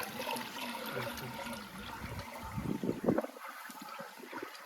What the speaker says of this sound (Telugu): Water sound.